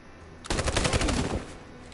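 A rapid burst of gunfire in Detroit: Become Human, a police-style officer shooting an android at close range, about a second of loud, tightly spaced shots cutting sharply in over a quiet background.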